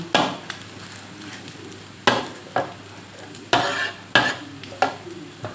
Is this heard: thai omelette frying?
yes